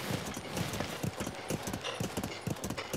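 Steady horse hooves clip-clopping in a quick, even rhythm in Zelda: Breath of the Wild, close and fairly loud, with no voices.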